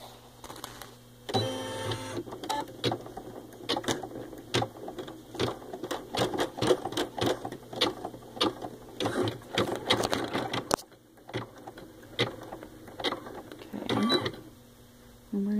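An Ellure Plus embroidery machine stitches a photo stitch design, its needle clattering in a fast, steady mechanical rhythm with whirring motor movement, close and fairly loud, with brief pauses between runs of stitches.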